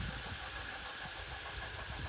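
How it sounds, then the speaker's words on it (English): A small Pico model steam locomotive circles a red loop track, giving off a faint, steady hiss with a soft mechanical rumble and no voices. "The red track is the one that the little Pico steam engine is coming around on."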